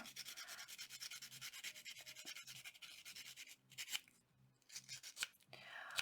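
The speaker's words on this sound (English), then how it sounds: "I'll handle that with some sandpaper" Rapid, steady scraping and rubbing strokes as sandpaper sands jewelry wire, a gritty abrasive rasp repeating close by, pausing briefly before resuming.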